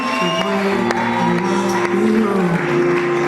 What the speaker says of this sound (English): Can you clap a hand for that?